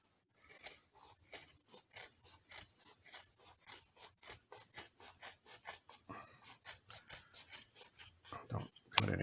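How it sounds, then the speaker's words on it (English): Scissors snip through purse fabric along a stitch line in a steady run of about twenty close, crisp cuts, each a short rasping snip with a quiet slide between them, ending with a louder clack. "Take your scissors and just go along here and cut it about 1/16 of an inch from this stitch line here."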